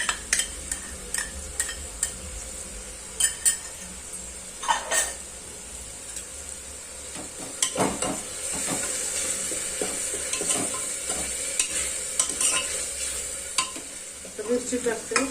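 Ginger garlic paste fries and sizzles in a pan while a spoon stirs it, with steady close sizzle and repeated scraping strokes and clinks throughout.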